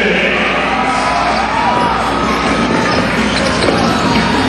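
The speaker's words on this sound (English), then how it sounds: "people applaud when it's the last 2 minutes" A large basketball arena crowd applauding and cheering in the closing two minutes of a game, a dense, steady roar of clapping and voices that fills the whole stretch.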